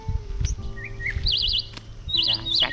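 A small pet bird chirps close by in a bonsai garden setting, giving short rising whistles and rapid warbled trills in a few quick bursts, with faint background rustling.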